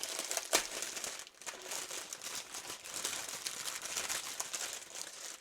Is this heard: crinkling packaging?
yes